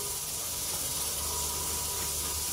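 Steam hisses from a pressure cooker, a steady, loud and unbroken rush that lasts the whole moment without any talk.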